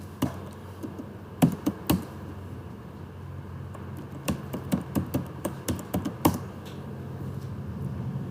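Fingers tap out code on a computer keyboard in short irregular bursts of crisp clicks, close and moderately loud over a quiet room, with pauses between runs of keystrokes and no talking.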